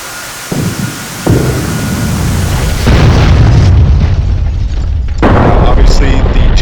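JDAM bombs strike buildings in a flight simulator game: a series of heavy, rumbling booms with deep roaring tails, the blasts landing one after another and staying loud throughout.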